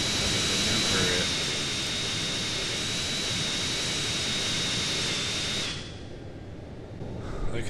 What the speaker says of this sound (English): Look at the size of this plane.